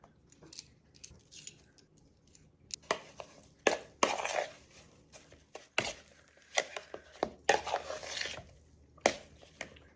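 Cubed beef chuck being tossed with flour, onion powder, salt and pepper, irregular soft rustling, scraping and clinking bursts close by, uneven and intermittent with quiet gaps.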